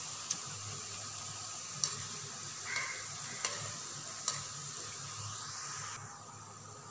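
Murukku frying in hot oil in a pan, a steady soft sizzle and bubbling with a few sharp clicks of a utensil tapping the pan, fading slightly near the end as the frying dies down.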